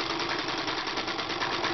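Sewing machine running a straight seam on a raglan shirt, a brief steady close whirring hum with a rapid stitching pulse, no talking.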